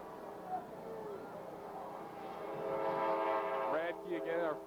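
Train horn blowing beside a high school football field during the 1995 Hobart vs. Griffith mud bowl game, a sustained multi-tone blare swelling louder over the last seconds, heard over crowd noise and game commentary.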